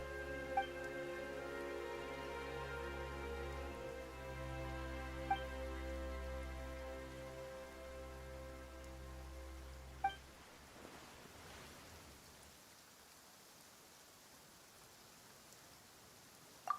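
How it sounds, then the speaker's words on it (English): Steady soft hiss of rain in Genshin Impact over low droning game music, with a few faint clicks; the music drops out partway, leaving the rain alone. "Why is it raining all of a sudden?"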